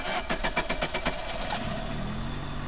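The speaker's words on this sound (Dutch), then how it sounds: "de eerste tweeslags verbrandingsmotor" The first two-stroke combustion engine runs in a 1996 Windows 95 educational adventure game, chugging in a quick, even rhythm of putters before settling into a lower, smoother hum. No voices are heard.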